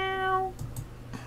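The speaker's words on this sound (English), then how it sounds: "The cat from earlier was rubbing his head on Yeonho's hand and being cute." A cat meows once in the video game Nameless, a clear drawn-out tone followed by a few soft thumps.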